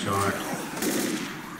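A gunshot headshot in the video game Left 4 Dead is a short, sharp burst early on, followed by lingering in-game noise.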